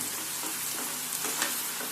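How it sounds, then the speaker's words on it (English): Baby corn flash-fries in very hot oil over a high flame, giving a dense, steady sizzle and crackle throughout at modest volume. "This is known as a flash frying, which gives this a nice crisp and a crunch."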